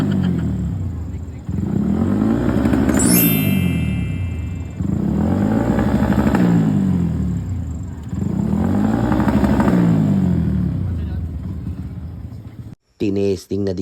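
A motorcycle engine at a motor show revs repeatedly in three long swelling pulses, loud and close, with a brief sharp metallic rattle early on before the engine cuts off near the end.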